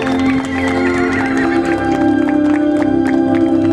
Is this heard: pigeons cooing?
no